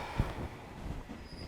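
Train riding on rails, a low rumbling rattle of wheels and carriage with a faint thump near the start, heard quietly and without voices.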